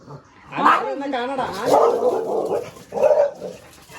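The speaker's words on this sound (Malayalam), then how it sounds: "പുറത്തു പോകുന്ന പാവം പട്ടിക്കുട്ടികളുടെ അടുത്ത് ബഹളം ഉണ്ടാക്കാൻ നാണുണ്ടോ ഇസു നിനക്ക്" A dog barks and yips in short bursts, close by, mixed with a person's raised voice talking over it.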